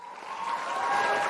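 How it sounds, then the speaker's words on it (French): An audience at a school talk on perseverance claps for a comedian and host as he enters, a short burst of applause that swells steadily from moderate to louder. "Et j'ai nommé l'humoriste et animateur, tout le monde en applaudit, Stéphane Fallu"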